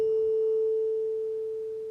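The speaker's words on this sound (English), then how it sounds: "we have those two sound boxes with the exact same tuning forks. They're both tuned to A440. If I hit them both together," Two matched A440 tuning forks mounted on wooden sound boxes, struck together, ring as one steady pure tone that slowly fades without other sound.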